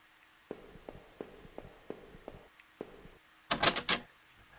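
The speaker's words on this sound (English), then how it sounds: "I gave the door a hard shove, and to my surprise, it cracked open." A stuck, taped-up door in the horror game Home gets shoved open: a run of soft, evenly spaced knocks and creaks, then a brief louder scraping burst as it gives way, fairly quiet overall.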